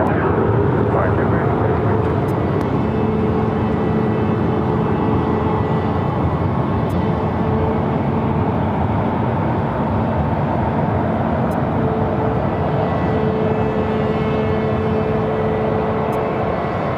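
An Alaska Airlines Boeing 737-900ER, flight 870 to Seattle, takes off from runway 7 left at Phoenix airport with a steady, loud broadband jet roar that holds for the whole stretch while voices talk over it.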